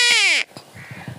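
A man imitates a crow's caw with one loud, harsh, descending call, close up, followed by quieter low murmuring.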